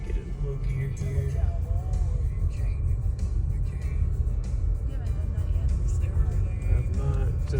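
A car engine drones steadily in low gear on a downhill Pikes Peak mountain road near Colorado Springs, with a continuous low rumble that stays close and even throughout and no clear speech over it.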